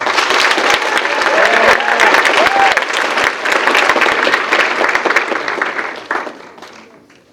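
Loud, dense applause fills a school hall during a Writers Week assembly for a returning graduate, with a few faint cheers and whistles mixed in before the clapping fades away near the end.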